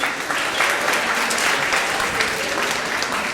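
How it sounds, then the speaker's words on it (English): A hall audience at a student union election results event gives a sustained round of applause, dense and steady throughout with no voices standing out. "we give him a round of applause, even though he's not on the stage"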